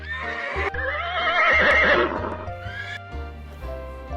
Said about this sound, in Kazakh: Міне, шапшаң жануар жылқы.